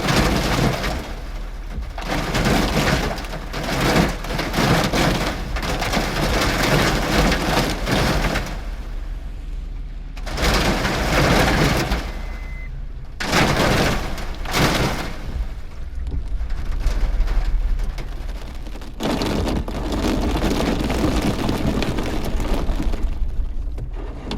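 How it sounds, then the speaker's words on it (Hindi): Steady, dense roar of heavy rain pouring continuously, loud and close, with brief dips in intensity. "छोटे से एरिया में बारिश"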